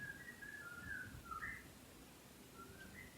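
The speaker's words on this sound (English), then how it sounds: "Can you please stop whistling?" Soft, fairly distant whistling with a few wavering tonal phrases over low room rumble, faint and intermittent.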